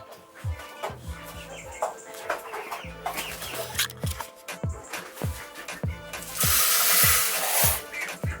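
Tiny hens, among the smallest chicken breeds in the world, cluck and cackle repeatedly at close range in a busy run, with irregular bursts of calls and a louder, noisier stretch near the end.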